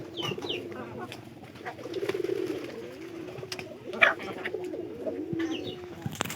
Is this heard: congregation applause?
no